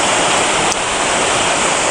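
Pool waterfall pouring down beside a water slide, a dense, steady rushing splash close by with no break.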